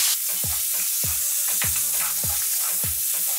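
Tomatoes fry with shallot and margarine in a pan, a loud close sizzle broken by a regular series of utensil scrapes and knocks roughly every half second as the mixture is stirred.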